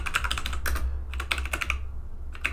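Fingers typing an npm install command on a computer keyboard, close, crisp clicking keystrokes in quick uneven bursts separated by short pauses, with no voices.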